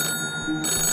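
A telephone bell rings in a Postman Pat cartoon, a loud, close, sustained metallic ring broken by a brief gap, with no talking.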